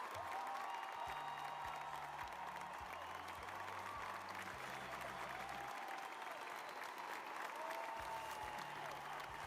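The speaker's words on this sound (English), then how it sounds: "Round of applause." Steady applause from a crowd on a live stream, continuous and fairly even throughout, with a low rhythmic beat playing faintly underneath.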